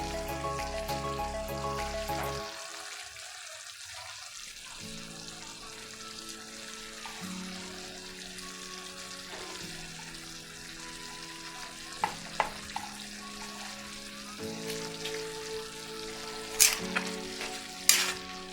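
Pork humba fries in a pan as chili peppers go in, giving a steady sizzle with occasional louder pops and crackles near the end, heard alone without any voices.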